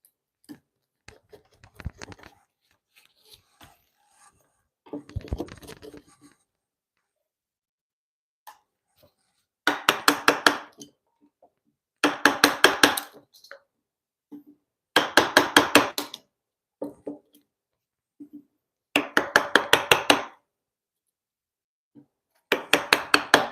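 Steel chisel driven into timber to cut a mortise for a timber-framed bunk bed: sharp, close, ringing mallet strikes in rapid clusters of several blows, separated by pauses, with lighter scraping and taps between bursts.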